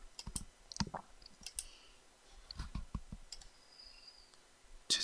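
Scattered sharp computer mouse clicks in modelling software, a few isolated taps spread unevenly over quiet background hiss, close but soft, with no talking.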